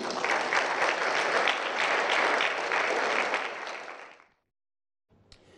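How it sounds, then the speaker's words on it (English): A studio audience on a news programme applauds, a loud sustained wash of clapping that fades out to silence, followed by a faint return of sound. "Give them an applause, please."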